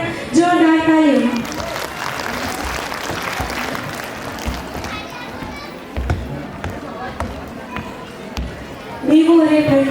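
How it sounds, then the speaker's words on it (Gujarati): Audience applause for a guest at a school annual function, a broad steady clatter of clapping filling the middle of the clip between stretches of a voice speaking at the start and end. "સાથે જ આવેલા આપણા મહેમાન શ્રી જયશ્રી મેમ માટે પણ જોરદાર તાળીઓ"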